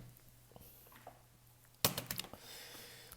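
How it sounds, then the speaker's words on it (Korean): A computer keyboard clicks faintly in a quiet room, with scattered keystrokes at first and then a louder, quick burst of typing near the middle that settles into softer taps. "타이핑을 해야지."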